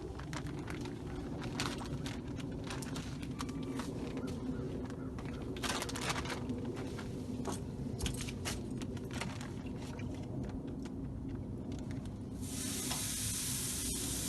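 Pork tenderloins on a Big Green Egg grill over hickory chips give a soft, continuous sizzle with scattered crackles and metallic clinks, close but faint, under some low speech.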